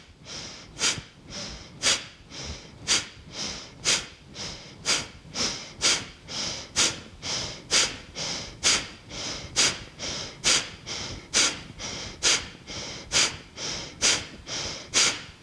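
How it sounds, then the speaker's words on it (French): Forceful yoga breathing through the nose, a fast even series of sharp, close exhalations about every half second with quieter inhalations between, continuing throughout without speech. "Inspire par le nez, expire vigoureusement par le nez."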